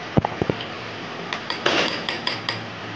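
Paneer idli batter with salt, sugar and lemon juice being mixed in a bowl: a few sharp utensil clinks against the bowl, then a brief scraping stir and several more light taps, close and fairly clear.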